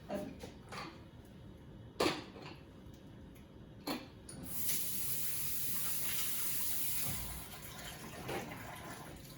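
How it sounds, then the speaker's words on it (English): Hands are washed under a running kitchen tap while green tomatoes are prepared for frying; after a few faint knocks, a steady rush of water starts midway and continues to the end. "And we're gonna wash our hands."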